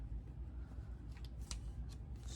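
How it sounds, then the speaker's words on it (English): A short piece of painter's tape torn off the roll, a few quick crisp rips close by over a low steady background hum. "So let me just rip off a piece of painter's tape just like that"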